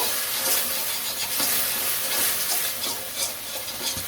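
A paste of tomato, ginger, garlic, onion and chili fries in a pan with a loud, continuous close sizzle, broken by periodic scraping and stirring strokes.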